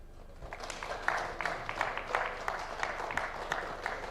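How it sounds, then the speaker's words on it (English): An audience at a legislative retreat on the state of the economy claps for a speaker, moderate steady applause from a modest crowd with scattered individual claps standing out. "Another round of applause for Honorable Kimani."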